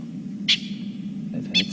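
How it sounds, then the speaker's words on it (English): Two short, sharp bird calls from francolins ring out about a second apart over a low steady rumble, fairly distant in the open bush where lions have settled at sunrise. "it's a couple of Franklins who are highly indignant that these lions have"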